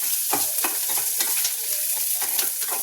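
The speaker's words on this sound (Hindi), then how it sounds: "ये प्याज पक रहा है" Onions fry in an iron kadai with a steady, bright sizzle, broken every few moments by the soft scrape of a spatula stirring through them, close and with no voices.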